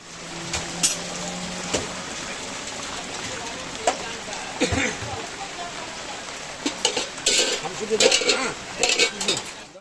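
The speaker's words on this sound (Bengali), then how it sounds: "কিছুক্ষণের মধ্যেই দেখলাম বৃষ্টিটা বাড়তে শুরু করেছে" Steady rain falls in the early morning, a broad continuous patter on surfaces with scattered nearer drips and clinks, gradually growing denser toward the end.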